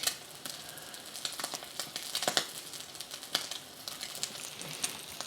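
Food crisping in a frying pan on a stove with the heat being turned down, a steady close sizzle with irregular crackles and pops and occasional stirring or scraping, no voices.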